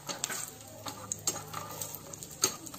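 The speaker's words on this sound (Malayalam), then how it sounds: "പറങ്ങാണ്ടി കൂടെ ആഡ് ചെയ്ത് നമുക്ക് നല്ലപോലെ ഒന്ന് വറുത്തെടുക്കാം" Raisins and cashews fry in a pan while making bread halwa, a quiet, steady sizzle broken by light clicks and scrapes from stirring, with no talking.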